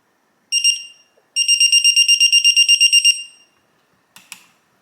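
A Quinn electronic torque wrench gives off high, piercing electronic beeps up close: one short beep, then a quick run of about a dozen evenly spaced pulses, then a brief faint chirp, with silence between them.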